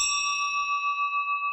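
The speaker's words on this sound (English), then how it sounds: "with the final bell ringing" A single bell rings clearly once at closing time and its bright tone hangs on, ringing out and slowly fading with a gentle pulsing shimmer.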